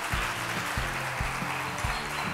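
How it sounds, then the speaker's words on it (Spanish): An audience at a home-decor show applauds in a continuous wash of clapping, moderately loud, over a steady background hum. "Un aplauso para este señor, para este chico"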